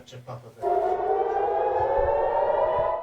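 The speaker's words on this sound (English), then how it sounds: "the second that siren, that alert goes off saying rockets are incoming" A civil defense siren warning of incoming rockets in Israel rises after a short burst of sound and holds a loud, steady wailing tone, with faint rumbling beneath it.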